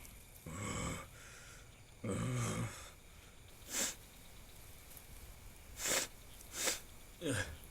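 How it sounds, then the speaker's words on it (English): Several short sneezes and sniffing bursts from a cartoon gorilla, spaced unevenly over quiet background noise, a few longer breathy ones early, then brief sharp ones. "You were sneezing up in those trees, weren't you?"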